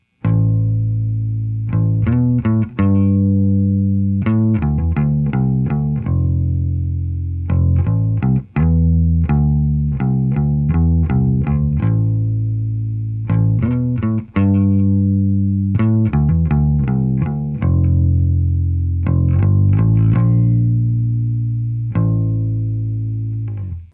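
A 1977 USA-made vintage Fender Musicmaster bass plays alone, up close and loud, with a steady run of plucked notes in short phrases and brief pauses between them.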